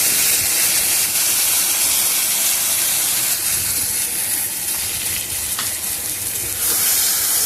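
Vegetables frying in a pan after a ground paste of cumin, chili and ginger is added: a loud, continuous hissing sizzle that fills the whole stretch, with faint stirring scrapes underneath and no talk.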